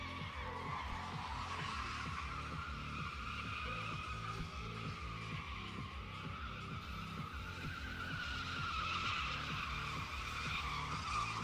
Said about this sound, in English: LT1 burnouts with fire in the background